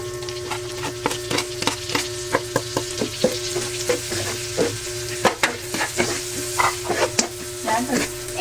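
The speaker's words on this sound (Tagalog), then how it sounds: "Ito po, ilalagay ko na yung mga bawang." Chopped garlic sizzles in melted butter in a pan used for cooking salmon, a steady close frying hiss broken by repeated sharp scraping and stirring taps, with a low constant hum underneath.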